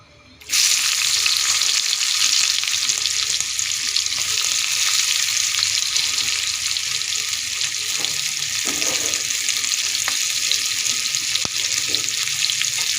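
Onions frying in hot oil in a pan, a loud, steady, close sizzle that starts abruptly and continues without a break, with faint occasional clinks.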